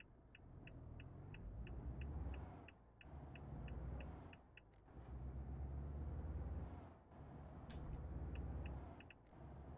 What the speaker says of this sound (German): Ja, dann bremse ich hier mal ab.